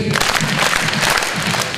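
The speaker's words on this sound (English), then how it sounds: "let's give them 3 power claps" Students at an elementary school morning assembly clap in unison, a loud burst of crowd applause with rhythmic power claps filling the hall throughout.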